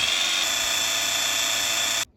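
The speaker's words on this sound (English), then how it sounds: "So we've drilled a little hole in there." A high, steady whine of a small power drill boring a small hole in a SEAT Leon FR door lock runs continuously for about two seconds, close up, then cuts off abruptly.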